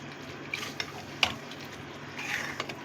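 Potatoes cooking in fish oil in a pan are stirred, with faint scraping and soft sizzling, a few light clinks of the utensil against the pan, quiet and close.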